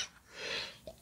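A single short, breathy cough-like burst, fairly close, with a second quick catch of breath just after; no talking.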